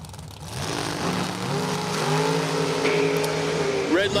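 Drag racing cars stage and launch at Numidia Dragway, their engines swelling from a low rumble into a loud, rising roar, with an announcer talking over the noise.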